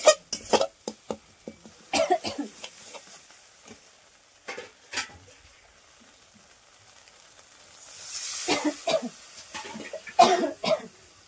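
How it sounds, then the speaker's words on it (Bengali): Someone coughing repeatedly from the pungent fumes of frying spices, sharp close bursts and throat clearing scattered over a faint background sizzle, with a louder frying surge near the end. "এত ঝাঁজ, কাশি চলে এলো।"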